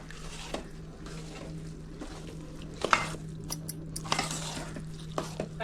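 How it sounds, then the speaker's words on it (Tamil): Rice mixed with ghee, cashews and dried chillies is stirred in a pot, giving quiet soft scraping and squishing with a few sharper clinks of the spoon against the vessel, fairly faint and without talk. "இந்த நெய் வந்து எல்லா சாதத்துலேயும் வர்ற மாதிரி நல்லா கிளறி விடணும்"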